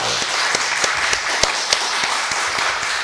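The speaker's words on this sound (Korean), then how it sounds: "격려 차원의 인설에도 박수 한번 주시죠." A church congregation applauds its choir, back after a long break, with a burst of dense clapping that holds steady throughout, sharp individual claps standing out within the crowd.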